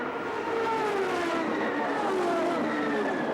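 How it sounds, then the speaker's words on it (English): Champ Car race cars roar off together at a race start, a dense, continuous high-pitched engine wail with rising and overlapping tones from several cars, loud and unbroken throughout. "Frenchman Sébastien Bourdais, slipped around traffic in turn 1, avoided contact and safely got through the track's treacherous hairpin"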